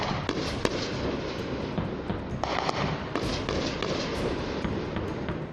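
Crackling, sharp bursts from army shelling in a cross-border exchange with Pakistani posts, with dense popping blasts and a constant rumbling roar through the whole stretch, loud and with no voices.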